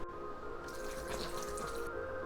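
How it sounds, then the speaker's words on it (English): Distilled water pours into a car radiator during a coolant flush, giving a soft, steady trickling and splashing rush that stays quiet and continuous. "Now we just fill it up with some distilled water"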